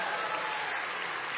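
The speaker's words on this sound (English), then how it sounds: "a lot of those folks are applauding" A crowd applauds steadily, a dense wash of clapping hands heard at a moderate distance and sustained evenly throughout.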